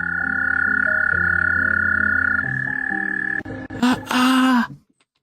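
A frog gives a long, steady, droning croak close by, which then breaks into a few harsher, rougher bursts before stopping.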